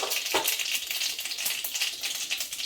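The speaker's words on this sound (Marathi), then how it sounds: "जिरा तडतडला का कढीपत्ता टाकायचा" Cumin seeds crackle and pop in two spoons of hot oil alongside mustard seeds for a spinach paratha dish: a dense, close, continuous sputter of rapid crisp snaps with no voices.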